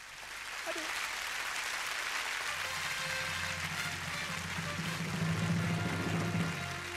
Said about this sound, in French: Charmine Charivar, que je vous demande d'applaudir, s'il vous plaît